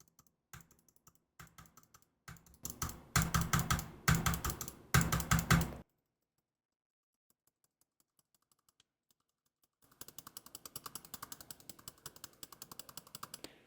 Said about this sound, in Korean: 키보드를 쳐서 키보드 타건음이 마이크로 들어가는지 테스트를 해보도록 하겠습니다